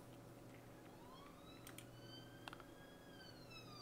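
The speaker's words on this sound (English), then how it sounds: "As sirens outside." Faint sirens wail outdoors in the distance, rising and falling tones drifting over a steady low indoor hum, with a few soft ticks, quiet and far off.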